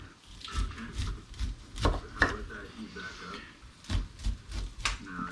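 Sharp knife slicing kernels off a corn cob in a home kitchen, a string of close, dull chopping thuds and scraping strokes in uneven rhythm, with light kitchen handling noise between cuts.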